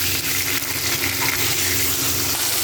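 Rui fish sizzles and crackles steadily in hot oil in a pan, a dense close frying hiss running without pause, with no talk over it.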